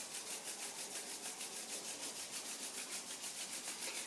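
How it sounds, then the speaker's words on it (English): Palms rub briskly together in a continuous soft, dry swishing with a steady back-and-forth rhythm, close and quiet, during a calm yoga session. "Give the hands a rub."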